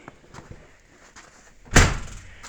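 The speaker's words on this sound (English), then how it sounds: "I gotta open this door" A door is pulled open in a cold, unheated workshop. Faint rustling is followed by a single loud, rattling thud that fades into low rumble. Nobody speaks.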